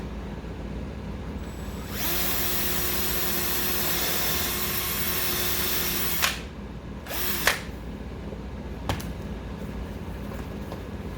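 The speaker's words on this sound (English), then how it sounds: "I use these for drilling holes in EVA all the time" A power drill whines steadily for several seconds drilling a hole in EVA foam, then stops, followed by a few short bumps and clicks from handling.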